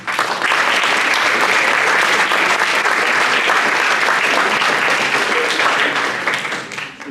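A crowd applauds at a school closing event following a talk on AI. The dense, loud clapping holds steady for several seconds before tapering slightly at the end.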